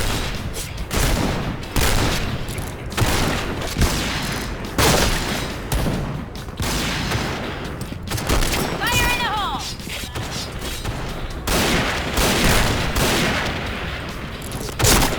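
Gunfire from an AS-50 sniper rifle in a shooting video game, with repeated loud shots and bursts layered over busy game sounds and effects, under game announcer voice lines.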